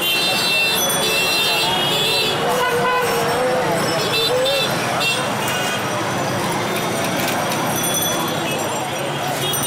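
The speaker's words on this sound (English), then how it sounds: "Even if traffic is at a complete standstill, horns are always honking." Car horns honk repeatedly in dense, gridlocked Dhaka street traffic in Bangladesh, short toots layered over a steady roar of engines and street noise, with a voice talking throughout.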